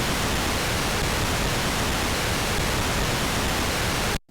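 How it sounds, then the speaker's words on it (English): Steady, loud white noise from a Moog synthesizer hisses evenly across the whole range for about four seconds, then cuts off abruptly. "if I need white noise, I'm gonna stick to my moog, which sounds like this."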